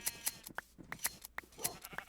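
Several short sheep bleats come in quick succession, moderately close and fairly faint, with brief gaps of quiet between the calls and no talking.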